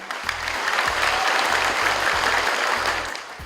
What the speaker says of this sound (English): A round of applause for Vuna Bosco.